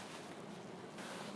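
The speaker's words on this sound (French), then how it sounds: "Je sais pas si vous m'entendez bien avec le vent du coup" Wind buffets the microphone outdoors on a very cold day, a faint, continuous rushing roar with no other clear sound.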